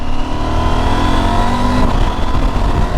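A KTM 790 Adventure motorcycle accelerating on a national speed limit road, its steady engine note loud and close with rising harmonics over continuous wind rush, no talking.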